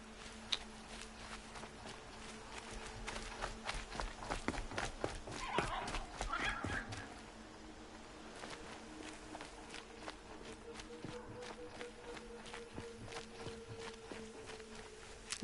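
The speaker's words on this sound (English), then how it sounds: "Cavalo, velho." Horse hooves clip-clop in a PS4 video game, a run of sharp, evenly spaced hoofbeats at moderate loudness, with a faint voice briefly in the middle and a steady hum underneath.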